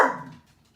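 A single short dog bark, fairly close, that fades quickly into quiet.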